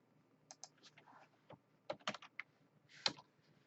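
Quiet, scattered keystrokes on a computer keyboard, a few irregular clicks and short bursts of typing heard up close in a calm room.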